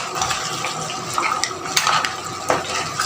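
Buttered garlic shrimp and mussels stirred in a pan, with a utensil scraping and clinking against the metal, plus wet shifting and sizzling, close and steady with a few sharper knocks.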